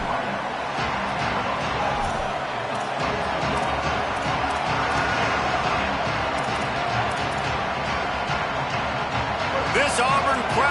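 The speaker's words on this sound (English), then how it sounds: "This Auburn crowd trying to conjure up a little magic here on third down." Auburn stadium crowd in the College Football 27 video game on a third down: a steady, dense roar of many voices fills the whole stretch, with a play-by-play voice talking over it.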